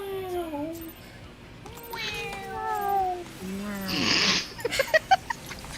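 A cat gives a run of several rising and falling meows close by, followed by a burst of hiss-like noise and a few sharp taps.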